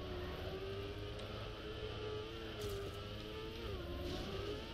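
A race car engine droning steadily in an enduro racing game, the revs holding with slight rises and dips while another car runs close by, constant and fairly loud with no talk.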